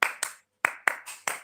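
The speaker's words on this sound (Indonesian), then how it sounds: "Contohnya tepuk 1, tepuk 2, tepuk 3, tepuk 4, Begitu." Six crisp, close hand claps in uneven pairs and singles with short silent gaps between them, counted out one by one in a demonstration.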